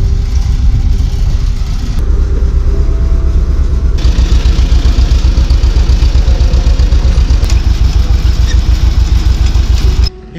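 Tractor engine running on a fishing outing: a loud, steady, close rumble with a fast pulsing beat, holding an even idle throughout before cutting off abruptly at the end.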